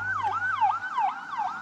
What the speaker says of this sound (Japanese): あれ救急車